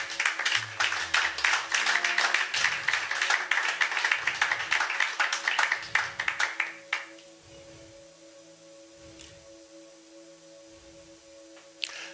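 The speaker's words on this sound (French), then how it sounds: "Applaudissons d'abord pour la gloire de Dieu." A church congregation claps together during an inaugural address by an apostle, dense rhythmic applause for several seconds that breaks off, leaving a quiet room with a faint hum and a few scattered claps.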